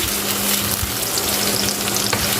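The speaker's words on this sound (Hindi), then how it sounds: "यहाँ पर प्याज को मैं इतनी देर पकाऊंगी कि इसका कच्चापन ख़त्म हो जाए। बहुत ज़्यादा हमने इसको गोल्डन ब्राउन वगैरह नहीं करना" Chopped onions sizzle steadily in hot oil in a pan, cooked just until no longer raw rather than browned, with a loud, close, continuous crackle and no voices.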